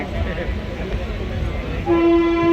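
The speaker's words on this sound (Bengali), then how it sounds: "ট্রেন ঢুকছে" A train rolls into Sealdah station with a steady rumble, then a loud, sustained horn blast rings out near the end, close and prominent over the surrounding noise.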